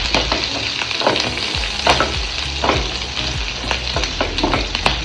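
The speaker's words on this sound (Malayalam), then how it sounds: "വെളുത്തുള്ളി, ഇഞ്ചി, കറിവേപ്പില ഇത്രയും നമ്മൾ അതിലോട്ട് ഇട്ടിട്ട് നന്നായിട്ട് വഴറ്റണം." Garlic, ginger and curry leaves sautéing in a hot pan for mango pickle, with a steady close sizzle and repeated scraping stirs at an irregular rhythm, no talk.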